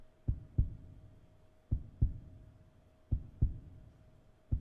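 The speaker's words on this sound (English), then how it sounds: "What's with the heartbeat sound?" Paired heartbeat thumps in Final Fantasy XIV, a low, close lub-dub repeating at an even, slow pace about four times, with a faint steady hum underneath.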